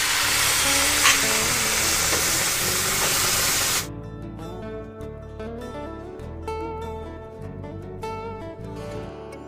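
Warm water poured into a pan of frying soybean chunks and potato sets off a loud, broad hiss of steam and sizzle for a few seconds, then gives way to music.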